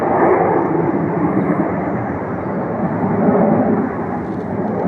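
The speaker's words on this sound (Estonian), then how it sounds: "arvake ära, mitu lennukit on." A formation of six airplanes roars overhead in a loud, steady, broadband engine rush that fills the whole stretch without break.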